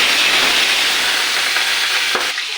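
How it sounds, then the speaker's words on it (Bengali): Boal fish fries in hot oil in a wok, a loud, dense, continuous hiss close up, with a brief knock near the end just before the sizzle drops slightly. "গ্যাস বাড়িয়ে দিয়ে মাছটাকে ভাজবো।"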